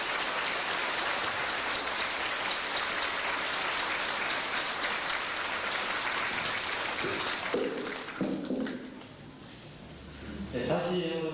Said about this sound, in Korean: 뜨거운 박수 다시 부탁드립니다